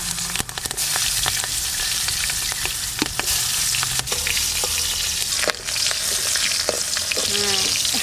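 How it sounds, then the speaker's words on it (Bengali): Pierced green chillies fry in hot oil, giving a continuous loud sizzle broken by sharp pops and crackles, with occasional stirring clatter. "এবার এই লঙ্কা ভাজবো"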